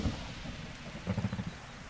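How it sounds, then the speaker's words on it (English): Rain pours down in Zelda: Breath of the Wild, a steady hiss of falling water with a faint low rumble and a short cluster of heavier patters partway through, no voices present. "And now it starts pouring rain again"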